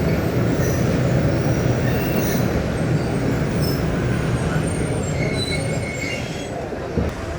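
Jand shuttle train at Jhalar railway station during a one-minute stop: a steady loud rail rumble with faint high wheel squeals persists throughout, easing slightly near the end.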